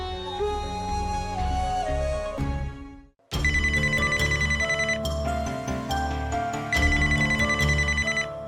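Telephone ringing for an incoming call, a bright repeating ring with steady harmonic tones that fills the scene, with a short break near the middle before it resumes just as loud, no voices.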